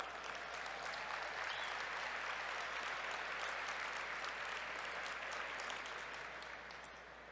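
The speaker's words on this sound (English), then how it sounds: "Can we have a round of applause for our sponsors?" An audience at the 114th NAACP National Convention's Spingarn Awards gives a sustained round of applause for sponsors, dense and steady throughout before tapering slightly at the end.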